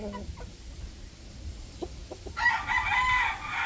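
A Rhode Island Red rooster crows once, loud and fairly close, after a few soft clucks and quiet farmyard background.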